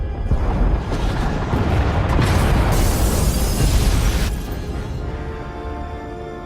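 Explosion tearing through the pod bays in Star Wars: The Old Republic, a sustained roaring blast with rumbling low end and a hissing, crackling burst at its peak, fading into a lingering rumble.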